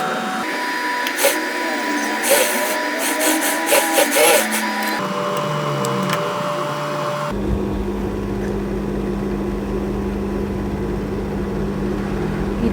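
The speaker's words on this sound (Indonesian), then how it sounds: "Sekarang bagian rok atas kita kerut dengan jahitan yang jarang-jarang." A sewing machine runs gathering stitches along the upper part of a child's babydoll skirt. Steady mechanical whirring plays in bursts and then becomes a continuous hum, with no talk.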